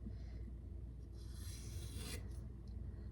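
A Spyderco Para 3 knife with a CPM 15V steel edge is scraped to dull it before sharpening, giving a short, quiet, continuous rasping rub with a brief brighter swell midway.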